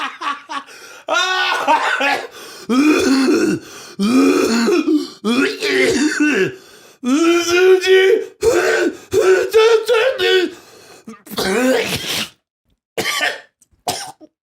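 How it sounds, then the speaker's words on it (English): Repeated harsh coughing and throat clearing, loud and close, coming in bursts with short pauses, with a few strained vocal sounds between fits. "And then I went performative with the coughing."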